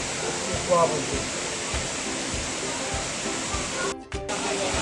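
A waterfall at a hot spring in Krabi, Thailand, roaring as a steady, loud wash of broadband water noise. It dips briefly near the end, and voices can be heard faintly beneath it.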